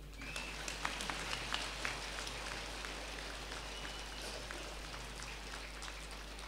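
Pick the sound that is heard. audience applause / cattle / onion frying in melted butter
audience applause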